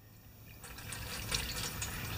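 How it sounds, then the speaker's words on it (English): Gasoline poured in a short, light trickle into the carburetor of a Makita G2400R generator, a faint liquid splash that grows slightly louder midway and continues softly to the end, with no talking. "I'm gonna pour a little gas on it."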